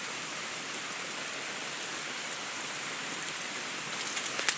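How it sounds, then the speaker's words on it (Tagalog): Heavy rain pours steadily outdoors in a garden with lemongrass and banana plants, a dense, even hiss that fills the whole stretch without a break, with a few faint drops standing out near the end. "Yan na guys, lumalakas ng ulan."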